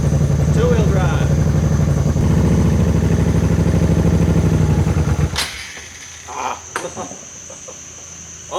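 Home-made mini rock crawler in two-wheel drive, high range first gear, its small motor droning steadily and close for about five seconds before cutting off, leaving light clicks and rustles.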